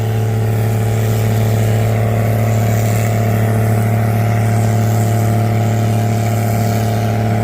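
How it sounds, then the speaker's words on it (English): A truck engine stuck in a harvested corn field roars loud and steady for several seconds, a strained, constant drone with no talk over it. "we got a truck stuck in the field."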